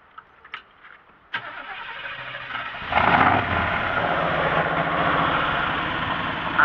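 A Chevrolet Blazer with a Chevrolet V8 350 cranks briefly after a few clicks, then fires into a loud, steady, rumbling idle close by, with no talking over it.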